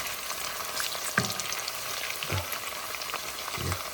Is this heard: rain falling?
no